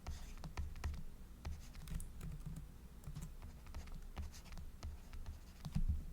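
An equation for an equilibrium constant is written by hand, heard as a steady scratchy scribble of pen strokes with small taps, close and fairly quiet, going on without a break for several seconds.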